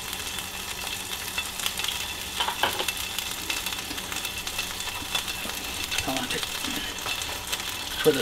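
Butter and garlic sizzle steadily in a pan while a pizza burger is cooked, with a continuous crackling hiss and occasional stirring scrapes at close range.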